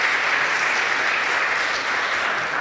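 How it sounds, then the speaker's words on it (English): A church congregation claps together in steady, dense applause that holds at an even level from start to finish, with no voices over it. "thank you for clapping for that."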